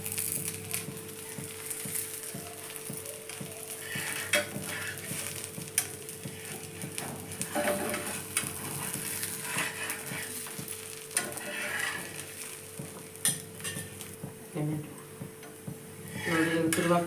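Masale rotti, a spiced flatbread, frying in a pan over a steady low sizzle, with occasional scraping and clinks from turning it, and talk in between.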